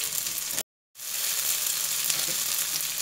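Noodles frying in a pan for a curry crab stir-fry with baby corn and mushrooms, a loud continuous sizzle broken by a short gap of silence, then steady crackling frying again.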